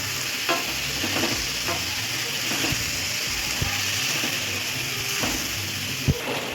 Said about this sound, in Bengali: এবার ভালো করে আলুটাকে ভেজে নেব।